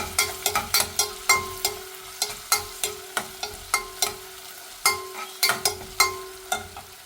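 Onions frying in a pan with garlic and ginger, a close spatula stirring in quick repeated scrapes and taps over a steady sizzle, with no talk.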